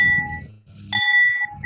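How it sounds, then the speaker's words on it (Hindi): A bell struck lightly rings out in clear, sustained tones, one soft strike fading before a second brighter ring, heard alone in a quiet room. "ये घंटी का नाद भी होता है ना"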